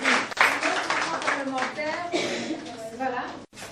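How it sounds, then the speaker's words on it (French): Audience of children and adults clapping to encourage a girl at a youth parliament event in Katanga, a lively, continuous round of applause with mixed voices and cheering, ending with a brief cutoff. "on peut l'encourager en applaudissant, s'il vous plaît."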